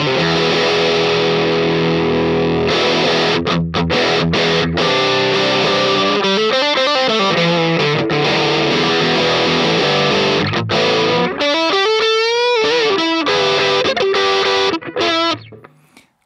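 An electric guitar plays through a Jackrabbit TripleG overdrive pedal, giving a loud, thick, distorted tone with sustained chords, sliding bends and shimmering vibrato-like passages that ring on steadily for about sixteen seconds with no talking.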